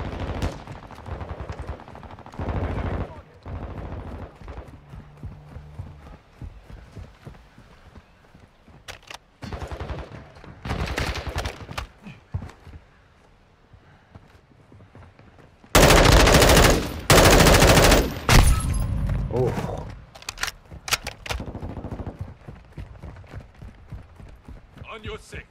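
Automatic gunfire in Call of Duty Modern Warfare II on the Embassy map, with loud sustained bursts of rapid shots, scattered single cracks and a long, intense volley near the middle, under occasional game voice callouts.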